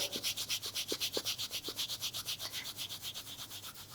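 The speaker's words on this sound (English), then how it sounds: "hand on either side of the knee. Just give it a little bit of a rub." Hands rub briskly on either side of the knee during a gentle yoga session, making a close, steady, rapid swishing of skin and fabric with an even rhythm throughout.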